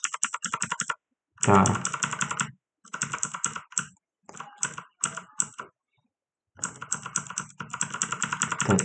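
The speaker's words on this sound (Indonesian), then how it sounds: "untuk scrollnya menggunakan keyboard" Rapid computer keyboard typing and key presses used to scroll through a Debian 10 Samba file server configuration, coming in bursts separated by short pauses, close and clear, with a brief spoken word.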